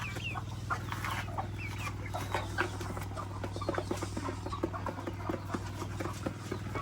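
Hen clucking near her chicks on a small farm, repeated soft clucks with scattered chirps over a steady low hum, close by.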